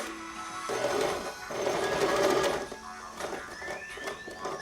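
A sewing machine stitches ski equipment with a steady mechanical whir that pauses and resumes, and a thin whine rises near the end; no one speaks.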